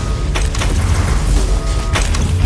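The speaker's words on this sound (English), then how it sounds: "their mortars attack the Imperial fort with artillery fire" Heavy mortar artillery fire pounding an Imperial fort in Warhammer 40,000: Inquisitor – Martyr, a loud rumbling barrage with sharp blasts and continuous low booming.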